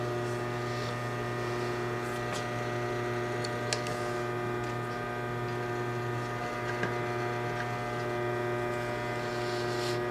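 A Singer 20U53 industrial sewing machine runs steadily in zigzag mode, a continuous mechanical hum with rhythmic ticking throughout, no talking.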